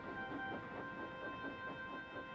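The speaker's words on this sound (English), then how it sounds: "Percy waited on the siding until Henry had steamed by" Henry the steam engine rumbles faintly past with a goods train while another engine waits on a siding, a low, steady chugging with soft rhythmic pulses.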